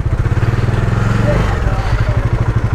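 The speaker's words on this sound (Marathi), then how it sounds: "चढवली आपण बाईक," A motorcycle engine thumps at low idle in a rapid, even beat as the bike is brought aboard a ferry at Velas, loud and close, with someone talking over it.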